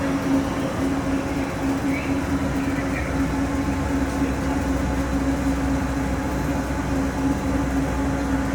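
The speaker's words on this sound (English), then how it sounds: "We're now approaching the Tomorrowland Monorail station, our final destination." Disneyland monorail gliding into the Tomorrowland station, a steady rail rumble with a sustained low hum throughout, moderately loud and continuous with no speech over it.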